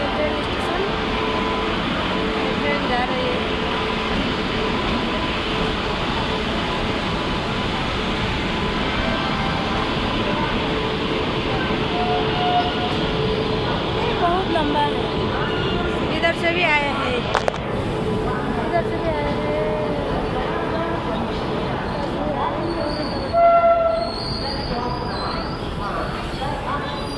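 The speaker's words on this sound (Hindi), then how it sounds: "ट्रेन जा रही है।" A train passing a station: a continuous broad rumble and rattle of rolling wagons that holds steady throughout, with faint squeaks, and a person talking over it.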